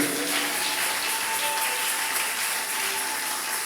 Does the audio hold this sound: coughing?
no